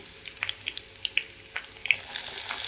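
Chopped onion going into hot oil in a pan for an okra curry, giving scattered sharp crackles and pops that swell into a steady, brighter sizzle toward the end, close by with no talking.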